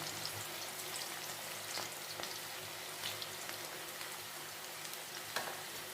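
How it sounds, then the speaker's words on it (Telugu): Cashews frying in oil, a quiet, even, dense crackle and hiss that holds steady throughout with a few faint pops, fairly low in level and with no talking. "ఎర్రగా వేగించుకుందాం"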